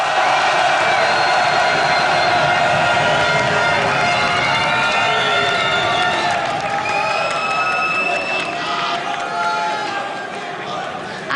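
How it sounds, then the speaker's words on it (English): A large esports arena crowd at a League of Legends EU LCS match roars and cheers for SK Gaming, with a dense, sustained wall of applause and whoops while an announcer talks over it. "I just can't get enough of this crowd."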